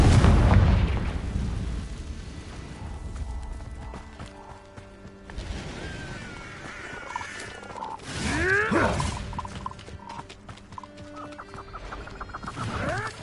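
Hogwarts Legacy video game combat with the Confringo blasting spell, a sharp opening burst, then scattered whooshing spell effects, crackles and impacts over a faint ambient game backdrop.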